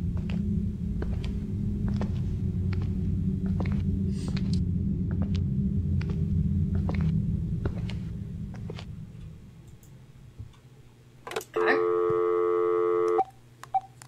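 Telephone keypad tones in the video game Dark Fracture: a run of evenly spaced short beeps over a low background hum, then a steady ringing tone near the end.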